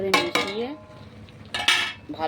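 A spoon clinks and scrapes against a pot while spice powder is stirred into jujube pickle, with two sharp metallic strikes early, a quieter pause, then another burst of clattering scraping near the end.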